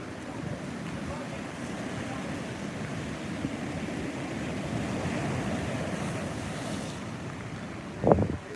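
Hurricane Dorian's onshore swell breaks against Flagler Beach Pier in a steady roar of surf, with wind buffeting the microphone throughout and a brief louder thump near the end.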